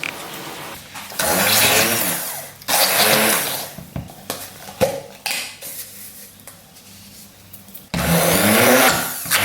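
A kitchen blender whips a cream dessert mixture with butter and sour cream. The loud, steady whirring comes in long bursts, pauses and restarts, and gives way to clattering between runs.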